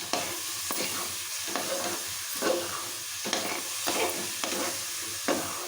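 Cashews fry in ghee in a pan for jaggery carrot halwa, giving a steady close sizzle broken by a regular series of sharp spoon scrapes as they are stirred, with no voices.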